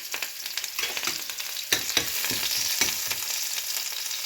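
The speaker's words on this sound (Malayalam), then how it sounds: "കോക്കനട്ട് ഓയിൽ ഒഴിച്ച് ഇനി നമുക്ക് അതിലേക്ക് അര സ്പൂണ് കടുകിട്ട് കൊടുക്കാം കടുക് ഇനിയിട്ട് നമുക്ക് ചെറിയ ഉള്ളി അതിലേക്ക് ഇട്ട് കൊടുക്കാം" Mustard seeds and small shallots fry in hot coconut oil, giving a steady close sizzle with scattered crackles and pops and a few stirring scrapes.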